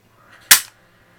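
A single sharp shot from a Walther P99 semi-automatic BB airsoft pistol, a close, loud snap that decays quickly into silence.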